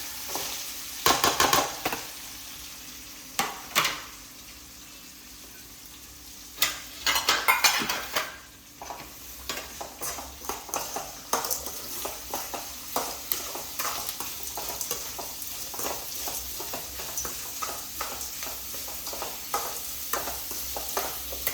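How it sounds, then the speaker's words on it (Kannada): Curry leaves and onion go into hot oil in a home kitchen, followed by intermittent stirring, spoon scrapes and clinks against the pan over a quiet, steady sizzle. "ಇವಾಗ ಕರಿಬೇವು ಸೊಪ್ಪು ಹಾಕೋಣ. ಈರುಳ್ಳಿ ಹಾಕೋಣ ಇವಾಗ."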